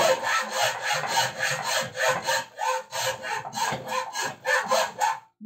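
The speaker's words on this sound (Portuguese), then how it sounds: "Não vou serrar até embaixo, né, para não me matar, mas que funciona, funciona, né?" A hand bow saw cuts through wood in close, loud back-and-forth strokes, about two rasping strokes per second in a steady rhythm with brief pauses, and no voices.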